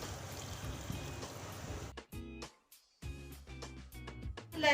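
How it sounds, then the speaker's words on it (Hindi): Half a glass of water poured into a pan while cooking a spice paste: a steady splashing trickle for about two seconds, then a brief quiet break and several short clinks and splashes. "पानी शामिल करूंगी आधा गिलास"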